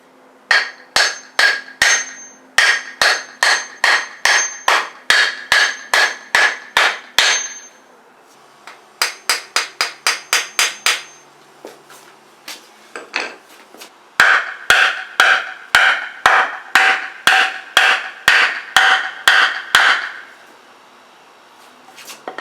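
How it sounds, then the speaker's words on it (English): Head sumps on a CA18DET engine are tapped into place with a 2x4 and a hammer, giving close, crisp knocks in quick rhythmic runs with short pauses between the groups and no talking. "I'm going to grab a 2x4 and then lightly tap that and try to get it to sink in"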